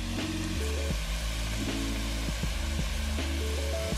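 Food stirred and left to simmer in a pan after seasoning with salt, pepper and herbes de Provence, a steady close sizzle with a continuous hum and occasional scraping of the spoon.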